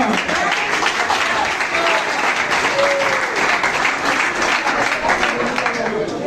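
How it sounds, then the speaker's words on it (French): A church congregation at a Reformed Christian church applauds steadily, a dense wash of clapping from many hands that is fairly loud and sustained, with a voice faintly audible beneath it. "un gros applaudissement."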